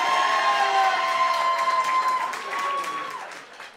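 A live comedy audience claps and cheers to vote, a dense wash of applause and whoops that swells early, holds, then fades toward the end.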